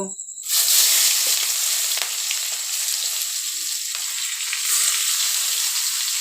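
Onions fry in hot oil with cumin seeds and bay leaves, erupting into a loud, dense sizzle that starts suddenly and stays strong and steady for about six seconds, with no voices.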